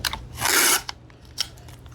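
Masking tape torn off a roll while taping a gas cylinder tank: a loud, close ripping burst lasting about a quarter second, followed by a few short crinkly snaps and taps, with no talking.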